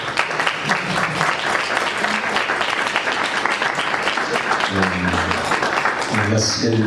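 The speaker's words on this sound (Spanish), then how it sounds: "démosles un aplauso a la doctora" An audience at a presentation on the history of wine applauds steadily and densely, with voices and faint talk emerging beneath the clapping toward the end.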